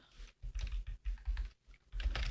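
Bursts of keystrokes on a computer keyboard as a name is typed into a label design for Christmas gift tags, close and fairly quiet, coming in short irregular clusters with brief pauses between words.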